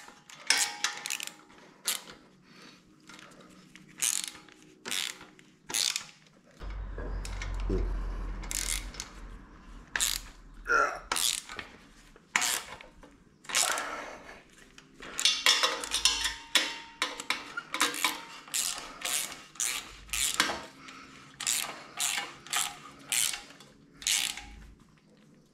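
A hand ratchet tightens bolts in a cross pattern, clicking in short repeated bursts of rapid pawl ticks separated by pauses, close and fairly clear, with a low thud or two in the middle.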